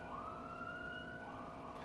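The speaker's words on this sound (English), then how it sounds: "hopefully that's the last siren" A police or emergency vehicle siren sounding outdoors in New York City, a steady wailing tone heard from a distance over low traffic rumble, continuing unbroken.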